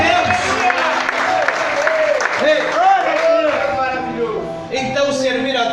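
A church congregation claps steadily during a Portuguese sermon while the preacher's loud voice carries over the applause throughout.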